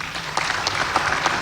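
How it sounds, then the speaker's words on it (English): Applause from an audience for the African Union chairperson candidates, a steady crowd patter with a few sharper claps standing out, moderately loud and continuous with no talking. "I ask that you give them another round of applause"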